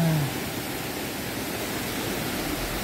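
Broad, steady rush of water cascading down the gently sloping tiers of Tat Sae waterfall near Luang Prabang, Laos, a continuous noisy roar with no voices over it.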